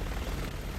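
A helicopter in the video game Resident Evil 6 gives a dense, steady rotor roar with low throbbing pulses, loud and continuous over the whole short stretch with no voices.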